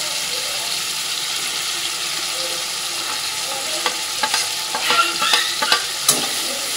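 A spice paste of ground roasted cumin, ginger paste, turmeric, salt, chilli powder and coriander powder sizzles steadily in a home kitchen pan, with scraping spoon strokes as it is stirred, growing busier toward the end.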